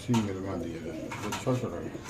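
A female pigeon in a cage at a pigeon farm coos in a few soft, low, throaty notes close by, with human voices murmuring over it.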